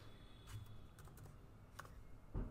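Faint keystrokes on a computer keyboard while entering a CSS property in a web editor: a few soft, quick clicks scattered over a low steady background hum.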